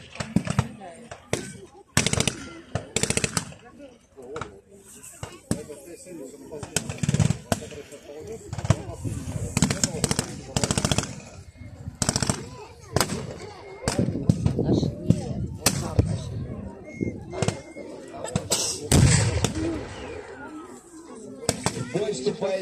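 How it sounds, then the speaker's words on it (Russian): Guns and artillery at a WWII battle reenactment, with a German self-propelled gun firing on a Soviet tank: a series of sharp, loud blasts and bangs at irregular intervals over a steady rumble, with voices talking throughout. "Немецкая самоходка стреляет по советскому танку."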